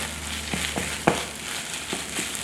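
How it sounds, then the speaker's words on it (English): Ground beef from a 1969 MRE food packet browns in a hot pan, giving a steady low sizzle and crackle with a few soft stirring scrapes and small pops throughout. "I'm just basically browning this meat"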